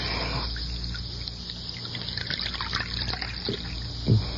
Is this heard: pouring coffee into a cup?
yes